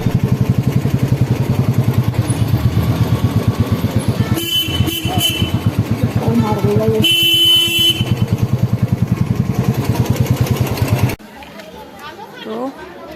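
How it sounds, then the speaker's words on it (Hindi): Dense tourist traffic outside Hidimba Devi Temple in Manali: motorcycle engines drone steadily up close while car horns blare in repeated bursts, with chatter from the crowd mixed in before the noise drops away near the end. "स्टार्टिंग में ही मिल जाता है हमें घमासान ट्रैफिक"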